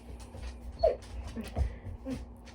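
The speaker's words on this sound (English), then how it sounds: "the dogs are fighting" Dogs scuffle and whimper indoors, with several short yips and whines close by over a low background hum.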